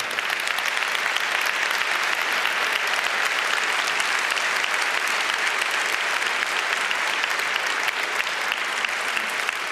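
A conference audience at a hacker congress applauds, with dense, sustained clapping from a large crowd that stays loud and steady for about ten seconds.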